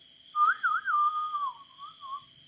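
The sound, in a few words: whistled call imitation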